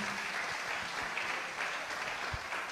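A church congregation applauds throughout a French-language sermon, a steady, dense wash of clapping with faint cheering mixed in, sustained at an even level from start to finish.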